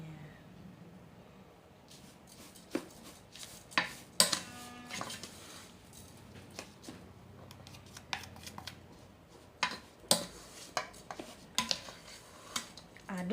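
Tapioca flour batter with salt stirred in a bowl, with irregular scraping clicks and taps of a utensil against the bowl.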